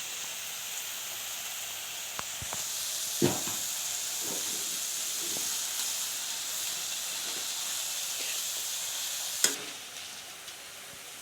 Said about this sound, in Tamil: மறுபடியும் முருங்கைக்கீரைக்கு தாளிக்கணும்.